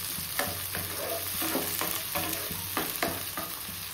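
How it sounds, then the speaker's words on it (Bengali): Onion and tomato fry in a pan with a steady hiss, broken by periodic scraping strokes as the mixture is stirred. The sound is close and even, with no talk. "হোক এটা ভাজা।"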